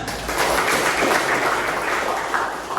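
A roomful of people claps in steady, dense applause that holds throughout without letting up.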